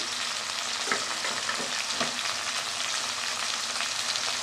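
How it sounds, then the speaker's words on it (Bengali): Onion, green chilli paste and tomato frying in a pan, a steady close sizzle with light stirring scrapes, continuous and fairly loud with no voices. "এবার কাঁচা লঙ্কা বাটা দিয়ে দিলাম, একটা পেঁয়াজ বসিয়ে দিলাম, একটা টমেটো দিয়ে দিলাম"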